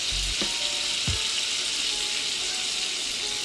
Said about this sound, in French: j'ai mon beurre qui est en train de cramer, là on va baisser le feu